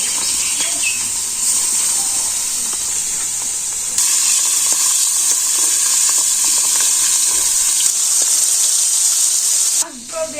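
Loud, steady sizzling of something frying in hot oil, a continuous crackling hiss close by, with faint clicks and a brief clatter near the end.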